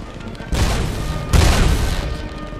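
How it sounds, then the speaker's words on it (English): Two heavy booming blasts in a space combat game, a missile striking a target, the first at about half a second and a louder second one soon after, each swelling into a broad rumble that lingers. "that thing just took a missile."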